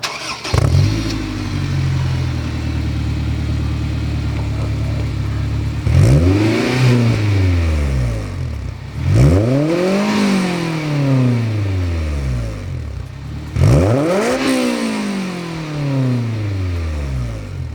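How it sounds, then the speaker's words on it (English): A Honda S2000 with a Ballade stainless steel 70mm exhaust revs hard, with a sustained high-rpm pull followed by three sharp, rising-and-falling blips, loud and close with no talk. "The exhaust itself is a Ballade stainless steel 70mm exhaust."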